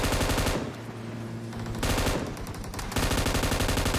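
Rapid bursts of automatic gunfire in PUBG Mobile, loud and close, in several volleys separated by short pauses.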